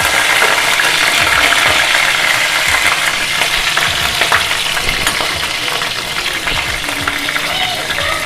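Whole spices and curry leaves sputter and sizzle in hot oil for a South Indian egg pirattal, a steady dense crackle running throughout with faint kitchen noise.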